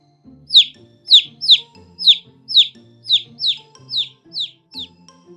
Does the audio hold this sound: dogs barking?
no